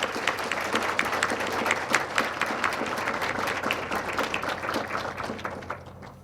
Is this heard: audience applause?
yes